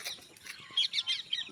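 Parrots calling in trees near a mango and guava orchard in Uttarakhand, a run of shrill, rapid chirps and squawks of moderate loudness with no talk.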